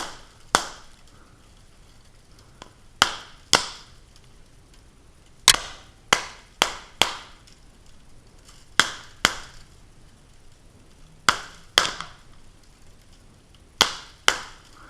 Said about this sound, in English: if there's some real metal workers out there, they would call this cold forging